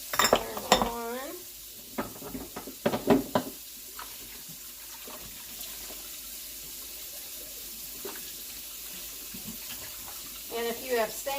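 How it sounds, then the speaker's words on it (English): Glass jars washed in a kitchen sink, with running tap water, clinks and knocks of glass against the basin and splashing, close up; the water settles into a steady trickle, then more clattering near the end. "I'm just washing up a couple more jars here."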